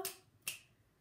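Two sharp finger clicks, close and fairly loud, spaced about half a second apart in time with a sung counting song, with nothing else between them.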